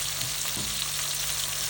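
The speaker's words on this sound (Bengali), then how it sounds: "দুই সাইড ভালো করে ভেজে নেওয়ার পর এখন হচ্ছে বাটারটা দিতে হবে" Beef steak fries in butter in a pan with a dense, constant close-up sizzle and a faint scrape or two, loud and unbroken throughout.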